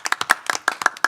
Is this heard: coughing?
no